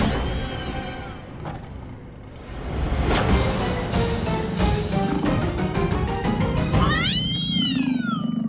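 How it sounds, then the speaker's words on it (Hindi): A cat-meow ringtone sounds from a phone left on top of a cupboard, heard as a run of loud, rising and falling meows near the end over steady indoor background noise. "ये पुष्पा जी का रिंगटोन है, उनका फोन बज रहा है।"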